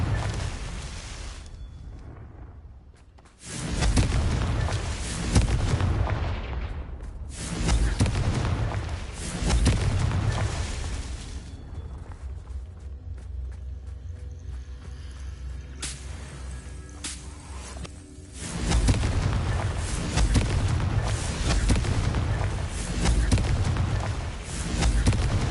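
Confringo fire spell blasts in the Hogwarts Legacy video game: loud booming bursts with crackling fire, dense and repeated across the stretch, with a short lull partway through.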